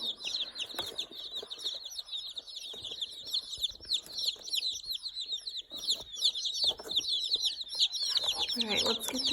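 A box of baby chicks peeping, a dense chorus of high, rapid chirps from many birds close by, with a person's soft voice speaking at moments.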